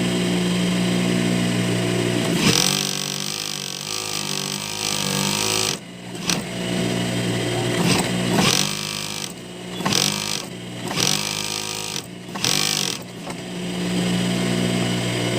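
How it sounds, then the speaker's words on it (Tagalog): An old sewing machine stitching fabric, a mechanical whirring drone that runs in bursts with short pauses and restarts, close and fairly loud. "makina ko kahit ganito nakaluma tingnan, pero ang ganda ng tahi."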